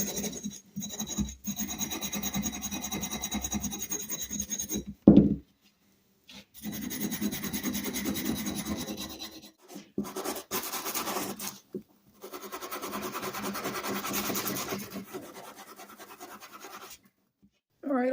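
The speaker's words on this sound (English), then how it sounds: "All right, all done with the paint stripping." Paint is scraped and rubbed off a vintage metal hand plane in bursts of close, raspy scratching, separated by short silent pauses.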